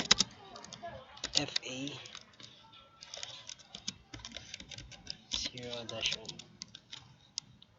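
Computer keyboard typing of network switch commands, irregular runs of crisp clicks and key taps, close up, interrupted by stretches of someone talking.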